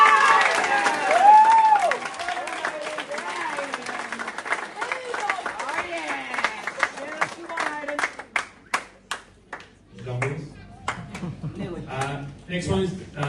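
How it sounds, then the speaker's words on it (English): Applause at a junior cricket club presentation night for a young player, a scattered round of clapping from a small crowd that thins into sparse individual claps, with a speaker's voice over the start. "Let's give him a round of applause."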